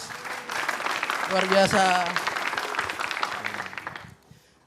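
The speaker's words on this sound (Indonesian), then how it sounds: "Respect, tepuk tangan buat Pak Presiden Ajis." Live audience applause at a stand-up comedy competition show, a dense clapping wash lasting several seconds with a voice speaking over the middle and the crowd noise fading out at the end.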